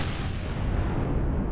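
A volley of weapons fire from a space combat in the survival game Empyrion Galactic Survival, a dense, loud, continuous rumble of overlapping shots and blasts with no gaps across the short burst.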